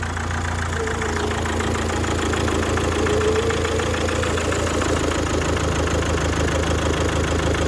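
A Mazda 6 idles on a newly fitted replacement engine that had sat unused for a long time, giving a steady, even hum with a faint rhythmic tick running through it.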